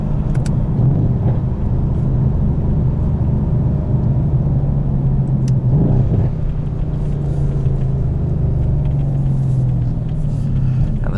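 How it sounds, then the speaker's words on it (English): A 2017 Mercedes-AMG C63S driving, its factory exhaust giving a loud, continuous low rumble with faint crackling burbles under steady road noise, heard from inside the cabin. "The burbles that are all factory sound amazing."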